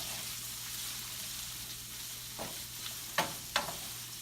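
Onions and garlic stirred into a hot frying pan, a soft steady sizzle with a few louder scraping strokes of the utensil near the end, quiet and close with no speech.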